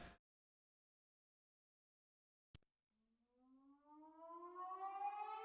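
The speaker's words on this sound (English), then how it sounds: "you're gonna have to listen to the alarm because, yeah, we're in the red" A low-energy alarm in the space game E.S.S. Mega, a siren tone that rises steadily in pitch and swells in loudness after a short click and near silence.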